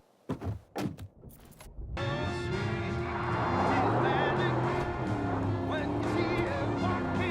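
A few clicks and knocks come first, then a car engine hums steadily in an open-world shooter, a continuous in-car drone with tonal layers that could be music, and someone talks over it.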